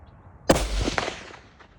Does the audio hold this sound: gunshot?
yes